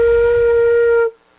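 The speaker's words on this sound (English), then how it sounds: "That's an unfocused flute embouchure." A single sustained flute note played with an unfocused embouchure, breathy with a spread, airy tone, held about a second before cutting off sharply.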